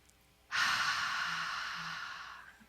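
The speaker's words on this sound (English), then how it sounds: "Take in a deep breath." A single deep breath drawn in during a guided meditation, a long, steady, airy inhale lasting about two seconds and fading gently, close and clear against a quiet room.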